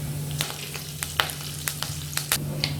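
Cumin seeds, dried red chillies and curry leaves sizzle in hot oil for a restaurant-style dal fry, a continuous close frying hiss broken by sharp crackles and pops.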